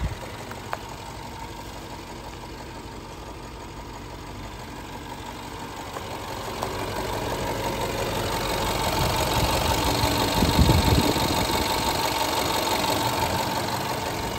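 A Range Rover L322 engine idling after a valve cover reinstall, with a steady mechanical hum and light ticking that grows slightly louder over time, with no voices over it.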